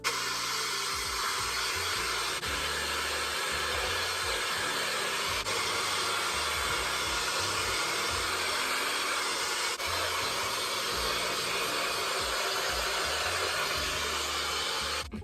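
Shark FlexStyle hair styler blowing on its single speed at one heat setting, a steady close airflow roar and hiss held unbroken for the whole stretch with no voices.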